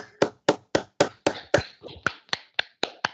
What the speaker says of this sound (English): A round of applause for our ambassador